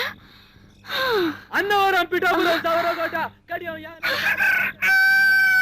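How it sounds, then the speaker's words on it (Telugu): A loud rooster crows repeatedly in long, strained cock-a-doodle-doo calls, close by, one after another with brief pauses, in a quiet setting. "అప్పుడే కోడి కూసిందా"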